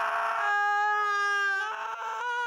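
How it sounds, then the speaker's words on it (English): A voice actor lets out a long, high-pitched shriek, a sustained strained tone with rich harmonics that wavers and dips slightly near the end, loud and alone. "It is a shriek."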